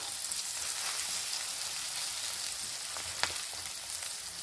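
An egg and onion omelette mixture sizzles in hot oil in a pan, a steady crackling hiss with a few sharper pops, close and continuous with no speech.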